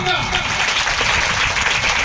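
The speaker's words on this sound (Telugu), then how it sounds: "చప్పట్లు కొడుతూ గట్టిగా" A congregation claps loudly at a church opening ceremony in Gangalagunta: a steady, dense wash of applause fills the whole moment while a voice speaks over it.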